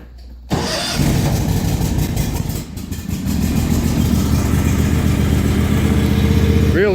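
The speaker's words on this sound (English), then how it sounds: "I'll get up on it, cold start it, and pull it outside." 2016 John Deere X570 lawn tractor engine cold starting with a brief crank, catching abruptly, then settling into a loud, steady, close idle with a brief dip partway through.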